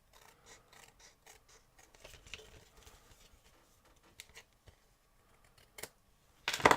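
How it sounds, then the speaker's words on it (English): Paper scissors snip along a card edge to trim an overhang on a handmade papercraft bag, giving a series of small quiet cuts and rustles, with a louder crisp snip at the end. "you can just tidy that up by taking your scissors"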